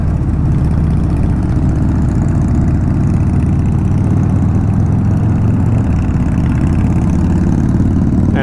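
A motorcycle fitted with Vance & Hines exhaust pipes rumbles steadily at a low idle close by, a deep, even engine drone that holds throughout with no talking over it.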